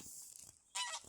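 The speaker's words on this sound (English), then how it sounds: "I can see a grey-leg goose right there." A single loud greylag goose honk rings out near the end, brief and harsh, following a quieter stretch of faint outdoor noise at a lakeside nature reserve.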